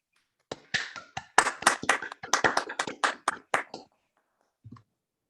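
A small group claps after a poetry reading: around fifteen close, sharp hand claps in an uneven burst, then silence with one faint tap near the end.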